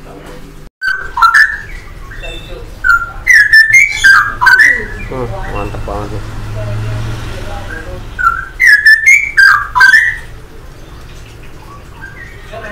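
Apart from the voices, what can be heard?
straw-headed bulbul (cucak rawa) singing at bird market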